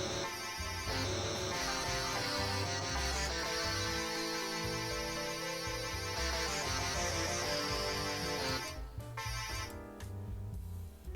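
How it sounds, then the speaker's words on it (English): Distortion guitar from a Mario 64 soundfont played in FL Studio: a loud, buzzy, harsh-toned riff running continuously for around nine seconds, with a few short choppy stabs near the end. "this would be a distortion guitar file"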